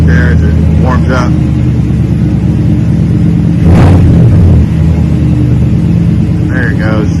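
A 2021 Chevrolet Silverado with a Flowmaster Super 44 muffler idling as it warms up, a loud, continuous deep exhaust rumble with a slight swell partway through, a voice talking over it.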